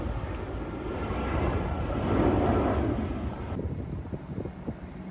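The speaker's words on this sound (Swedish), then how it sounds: "Ett till flygplan lyfter." Airplane taking off nearby, a loud roaring engine rumble that swells to a peak midway and then thins out, followed by quieter wind buffeting and scattered outdoor noise.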